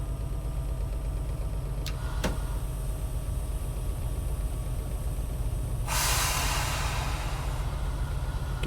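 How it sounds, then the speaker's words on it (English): Brakes being applied on a train in Train Sim World 3 on the Stoughton Branch of the Northeast Corridor: a steady low engine rumble with faint clicks, then a loud burst of air hissing that continues to the end. "So we'll start applying the brakes."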